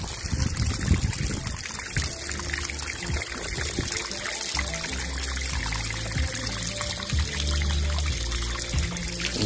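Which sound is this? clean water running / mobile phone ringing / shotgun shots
clean water running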